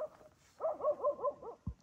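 Outside a tent at night in the Gul Danda forest near Bhaderwah, a dog barks without stopping. About six quick, fairly close barks come in a steady rhythm and end with a short thump.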